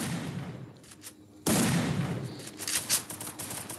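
Rapid gunfire in the mobile battle game Free Fire, loud bursts of shots starting abruptly partway through after a quieter stretch, continuing steadily to the end.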